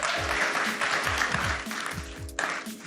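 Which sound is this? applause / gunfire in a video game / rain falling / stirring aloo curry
applause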